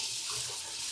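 Tap water runs steadily and loudly into a sink while eggplants are washed, a continuous close splashing rush with no voices.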